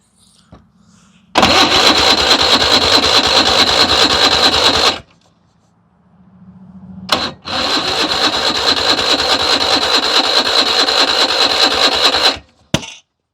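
A vintage hovercraft engine starts for the first time in 25 years. It catches loudly and runs for a few seconds, cuts out, then restarts and runs steadily before stopping, with a brief sputter at the end.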